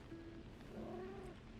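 A cat in the video game Lies of P gives a short, soft purring call with a rising and falling murmur. It is brief and close, with low game ambience behind it.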